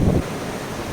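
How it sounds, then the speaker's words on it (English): Strong wind gusting up from the valley at a reverse waterfall in Amboli, buffeting the microphone as a rough, low roar with an opening burst that settles into a steady whoosh, no voices. "the wind here is so strong that the wind from the valley, it pushes the water all the way up."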